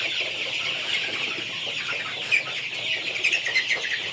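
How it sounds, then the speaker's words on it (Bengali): Chickens in a dim poultry shed holding about 1650 birds, a continuous chorus of clucking and chirping from many hens close by, steady with occasional louder calls. "এই খামারে মুরগি আছে 1650"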